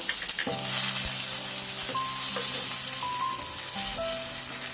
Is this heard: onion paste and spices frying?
yes